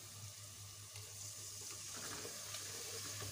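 Water poured from a tap or jug into moong dal tadka in a pan, a steady, fairly quiet running splash that continues throughout, with no talk.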